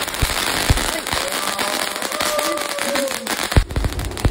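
A New Year's Eve firework fountain hisses and crackles steadily, punctuated by a few sharp firecracker pops, loud and close.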